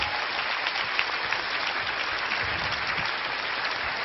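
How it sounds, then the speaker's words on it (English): Steady applause from a seminar audience, even and continuous throughout, with a dull, muffled character and no speech over it. "give them both a big round of applause"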